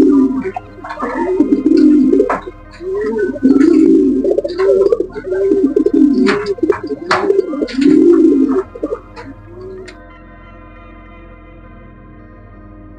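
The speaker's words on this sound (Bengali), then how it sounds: "এটা হচ্ছে লালদম কবুতর, মাত্রে পেয়ারিং হয়ে গেছে" A Lal Dom pigeon that has just been paired coos loudly and close by in repeated rolling phrases for about nine seconds, with a few sharp clicks, then the sound falls quiet.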